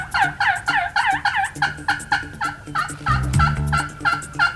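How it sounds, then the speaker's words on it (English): Wild turkey toms gobble repeatedly from several directions on a hunting property, a dense run of loud, rattling calls overlapping one another with no talk. "We heard gobbles from everywhere."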